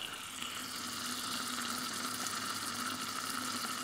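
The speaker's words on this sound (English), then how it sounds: "The onions are sizzling." A steady, even sizzle of onions frying in a Thermomix, continuous hiss with no talking, close and moderately loud.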